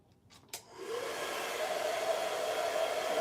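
A hair dryer blows air onto a hair weave cap, switching on after a couple of clicks and then running as a steady, close, loud whooshing hum.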